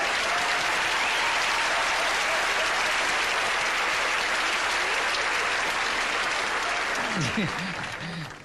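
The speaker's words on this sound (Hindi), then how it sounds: "दोस्तों जोरदार तालियां हो जाए।" Loud, sustained applause from a large audience fills the space, a dense clatter of clapping that fades slightly as a voice begins at the end.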